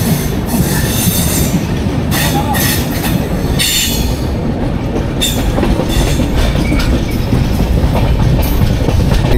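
Dhauli SF Express passenger train pulling out of a station, heard from aboard: a loud, steady rumble of wheels on rail with repeated metallic clacks and bursts of high squeal, continuous and close throughout.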